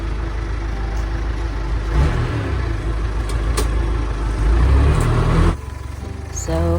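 A John Deere 310C 4x4 backhoe runs with a steady, rumbling diesel drone, swelling louder for a stretch before dropping back to a lower idle near the end.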